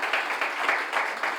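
Applause from an audience at a talk with architect Lukas Rungger: dense, steady hand clapping at moderate distance, fairly quiet and without speech.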